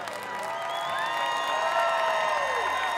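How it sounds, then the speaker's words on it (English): Stadium crowd at a college football game, Ohio Bobcats vs. Wyoming Cowboys, applauding and cheering for parachute jumpers, a broad, distant roar with whoops and whistles held steadily throughout. "let's get one more round of applause for today's jumpers"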